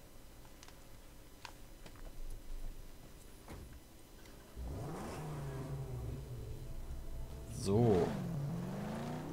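A car in the video game Mad Max driving, with engine revs that rise in two clear swells over faint ticking, while someone talks quietly over it.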